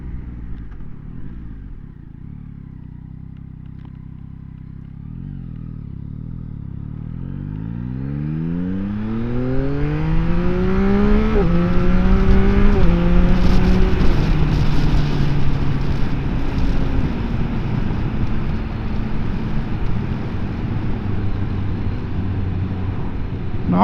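A Yamaha XSR900 motorcycle is ridden gently, starting from a low idle-like rumble and then pulling away through several smooth rising revs, the engine note climbing and steadying into a loud cruising drone with wind rush.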